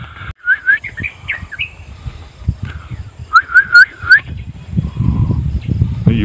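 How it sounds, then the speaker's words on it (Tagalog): A bird calls repeatedly in quick rising chirps, in two bursts of whistled notes, over outdoor rustling and background noise in Puerto Galera, Oriental Mindoro. "May ibon."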